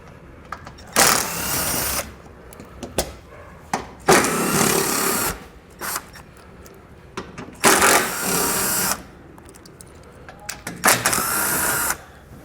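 Ratcheting bursts from a 10mm socket come from underneath a 2021 Jeep Cherokee as bolts are backed out where two panels meet, several short loud spells separated by quiet pauses.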